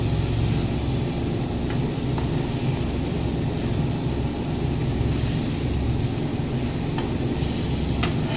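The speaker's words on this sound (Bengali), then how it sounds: "মশলার সাথে আবার এটাকে 5-7 মিনিট মতো ভেজে নেব।" Boiled rajma kidney beans and potato fry with spices in a pan, making a dense, continuous close sizzle with occasional stirring clicks and no voices.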